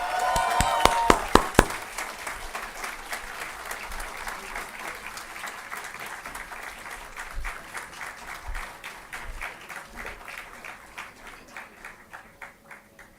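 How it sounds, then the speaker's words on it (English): A large crowd at a business school convocation applauds steadily for over ten seconds, dense clapping that starts strong with a few sharp claps and gradually thins and fades. "Big round of applause."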